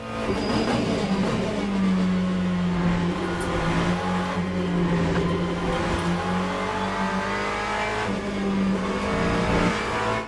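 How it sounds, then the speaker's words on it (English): A GT3 race car engine in the racing game Le Mans Ultimate drones steadily at high revs, a loud continuous buzzing tone that shifts slightly in pitch throughout. "I love how in this game you can let the car coast, and it just feels very natural."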